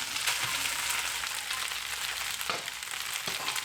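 Fried rice sizzling in oil with eggs in a hot pan, a steady loud crackle and hiss with a few scraping stirs, no talk over it.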